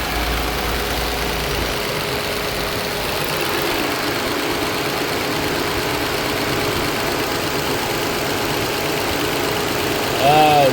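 A 2008 Nissan Altima engine with a lean bank 1 fault idles steadily with a constant low hum and faint background noise, held slightly high, with a brief louder burst at the very end.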